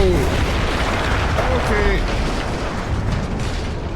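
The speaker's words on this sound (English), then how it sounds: "That explosion was one of the sweetest sights of the war for me." An explosion in the World War I video game Battlefield 1, set in the Italian campaign, rolls out as a loud, deep, sustained rumble. A voice speaks briefly over it.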